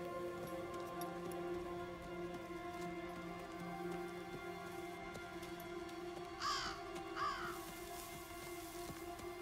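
A crow in the Diablo IV video game gives two short harsh caws near the end, over a low droning ambient score and a soft rain-like patter.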